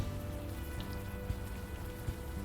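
Steady rain falling in the video game Unavowed, an even hiss of drops on the street with a few faint patters, close and continuous without any talk.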